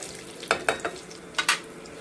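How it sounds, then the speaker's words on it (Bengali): Whole cumin seeds and a bay leaf tempering in hot oil: a faint low sizzle broken by a handful of sharp crackles and pops, two close together early, then two more near the end. "ওই তেলেই একটু জিরে ফোড়ন আর একটু তেজপাতা, একটা গোটা তেজপাতা একটু ভাজা ভাজা হয়ে আসলে"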